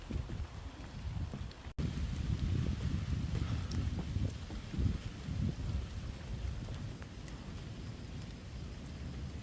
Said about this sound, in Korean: 갑자기 비가 세차게 내려 잠시 소나기를 피합니다